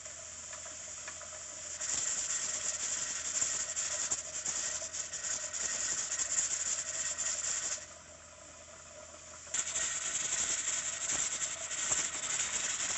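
Weighted gauge on a pressure canner processing chili beans, pintos and great northerns, jiggling in a steady hissing, rattling rush that drops away briefly, then resumes loud and continuous with no talk.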